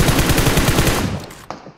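Rapid automatic gunfire in PUBG Mobile rattles loud and close in a dense burst, tapering off before a final sharp shot near the end; no talking.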